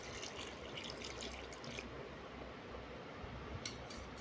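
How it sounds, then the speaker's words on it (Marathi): Water pours into a bowl of fermented rice mixed with curd and milk for Telangana chaddi annam, a soft steady splashing trickle close by, quiet and continuous, with a gentle change partway through. "परत आपल्याला याच्यात घालायचं आहे पाणी."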